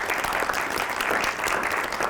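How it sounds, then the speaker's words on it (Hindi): Loud, dense applause from a live audience at a Holi poetry mushaira held in a newsroom, sustained steadily for about two seconds with no talk over it. "तो एक बार ज़ोरदार तालियों से आवाज़ दीजिए"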